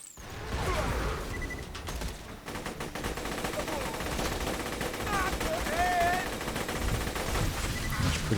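Sustained rapid gunfire from the Shredder gun in Borderlands, a dense rattling stream of shots with mechanical clatter and occasional whooshes and crashes mixed in, steady and fairly loud throughout.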